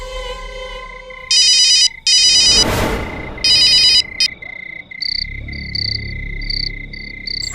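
A telephone ringing in a home, a loud electronic ringtone in three repeated bursts with a rustling noise between them, then a quieter beeping tone pattern that continues to the end.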